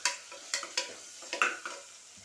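Tomatoes and chilli are added to a frying mutton curry and stirred, giving short bursts of sizzling and scraping in an uneven rhythm, close by and fairly quiet.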